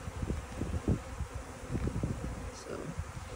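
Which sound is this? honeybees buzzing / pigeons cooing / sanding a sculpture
honeybees buzzing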